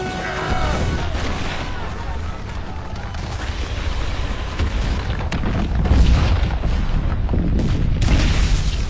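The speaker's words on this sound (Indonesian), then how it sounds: "ledakan tersebut berhasil menghancurkan istana" A bomb explosion destroys a palace in a film, a dense sustained roar and rumble of blasts and debris that swells louder toward the end, with no clear pauses.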